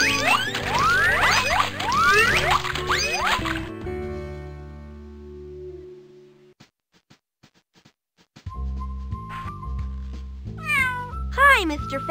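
A cat stuck in a tree meows repeatedly in the video game Putt-Putt Enters the Race. Several loud, sliding meows come at the start and end, with cartoon music in between.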